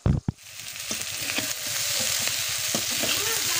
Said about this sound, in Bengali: এখানে কিন্তু আমি ভাজছি বাড়ির মাছ